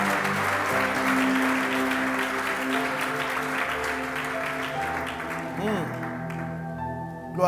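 A church congregation claps and applauds in a steady, dense wash that fills the room, mixed with organ or keyboard tones and voices, thinning toward the end.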